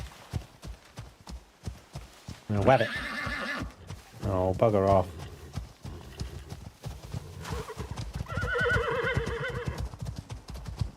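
Horse in the survival game Icarus whinnying twice loudly and close, with trotting hoofbeats clip-clopping throughout and a player talking over it.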